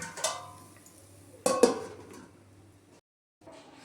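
A pot of freshly cooked sheera is covered with a lid after the gas is switched off, giving a couple of close metallic clinks and clatters followed by quiet.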